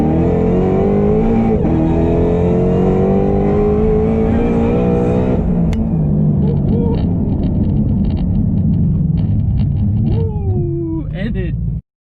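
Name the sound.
1100HP Shelby GT500 accelerating and braking hard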